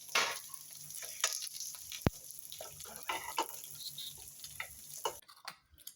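Oil crackles and sizzles in a pan while chutney is tempered, a faint continuous hiss broken by scattered sharp pops and ticks, with one loud snap near the middle.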